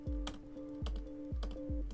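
Command and L pressed as a shortcut on a computer keyboard, a few distinct, evenly spaced key clicks, close and fairly quiet over a steady low hum.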